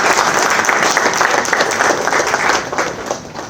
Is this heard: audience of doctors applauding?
yes